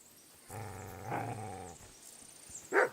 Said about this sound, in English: I mean, it's a wolf, not a dog